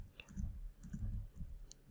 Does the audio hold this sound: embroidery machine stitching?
no